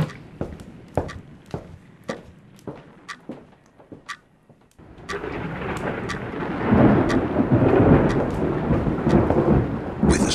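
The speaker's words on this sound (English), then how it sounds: "Quite a storm we have going on out there tonight" A night thunderstorm outside: sharp, sparse cracks and taps at first, then from about midway a loud, rolling rumble of thunder and steady rain that fills the rest of the clip, with no talking.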